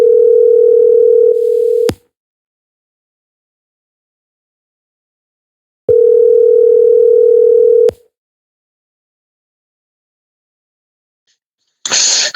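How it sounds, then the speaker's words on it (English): Telephone dial tones sound while a three-way call is being placed: two steady electronic tones, each about two seconds long and separated by silence, then a short burst of noise at the end. "we're just going to give him a call here on the three-way."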